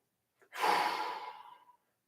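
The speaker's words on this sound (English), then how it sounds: "One more breath here." A single long, audible exhale during a yoga session in Tadasana, close and breathy, rising quickly and tapering off over about a second.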